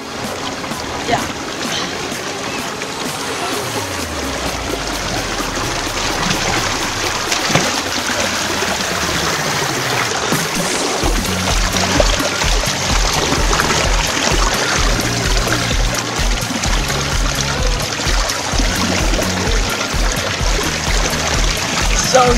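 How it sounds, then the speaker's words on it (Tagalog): Water pours steadily down a man-made waterfall in Pampanga, Philippines, a continuous rushing wash of moderate loudness with no talking. "Maraming falls dito, hindi naman falls, parang man-made falls din yan."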